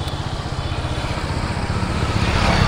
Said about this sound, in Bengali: ওরা বাইক নিয়ে আসছে, ওই দেখো ওরা বাইক নিয়ে আসছে।